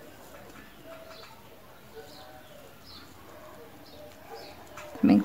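An unfamiliar bird singing outdoors, faint cooing and chirping notes repeating across the background, distant and quiet, with a brief louder knock near the end.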